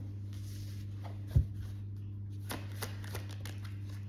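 Tarot deck being shuffled and handled close up during a reading, a soft card snap followed by light riffling flicks over a steady low electrical hum, with no voice.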